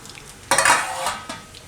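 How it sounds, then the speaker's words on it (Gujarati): Potato vadas fry in hot oil with a sudden burst of sizzling and a metal spoon clattering against the pan, then the sizzle fades back to a low bubbling, with no talking. "તો આ રીતના આપણે એને તળી લેવાના અને આપણે કાઢી લેવું."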